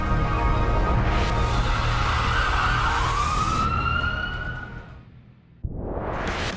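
A loud wailing siren sweeps and fades away, then a brief dip to near quiet before another burst of sound starts up.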